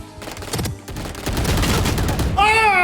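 Rapid automatic gunfire in the shooter game Valorant, a burst of close, loud shots packed together, with a brief voice at the end.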